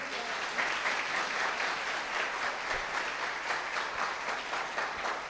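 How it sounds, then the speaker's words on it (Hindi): Audience applause fills a Christian conference hall in Bilaspur, steady dense clapping from a large crowd, loud and continuous with no talk over it. "एक बार जोर से ताली बजा दें।"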